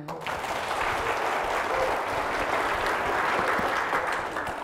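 An audience at a North Lombok health talk show breaks into steady, dense applause, a sustained wash of many hands clapping that holds evenly at moderate loudness for several seconds.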